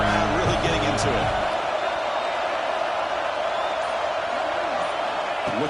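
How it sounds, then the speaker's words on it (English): A football stadium crowd roars steadily on third down, a dense, loud wash of cheering that holds for several seconds, with a sports announcer talking over it at the start. "Third down, and the crowd really getting into it."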